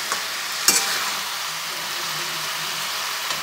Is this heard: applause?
no